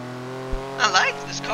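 A Porsche in Forza Horizon 3 revs its engine, a short rising roar with a brief burst of noise near the end, heard over a low steady drone.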